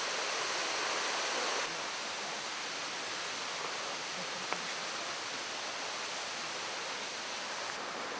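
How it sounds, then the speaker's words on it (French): Constant roar of the Ryumon no Taki waterfall in Yoshino, Nara, Japan, water crashing down in a dense, unbroken hiss that holds steady throughout. "le bruit de la cascade qui tombe"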